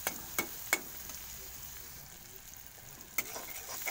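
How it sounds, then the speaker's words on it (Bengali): Masala spices for an egg omelette curry fry quietly in a pan, a faint steady sizzle broken by a few sharp clicks of a spoon striking the pan; no voices. "মশলা কষানো হয়ে গেছে"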